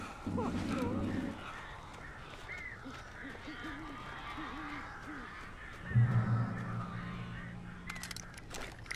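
Crows caw in the horror adventure game Alan Wake, harsh calls scattered through the scene under steady voices talking, with a louder burst of sound near the start and again toward the end.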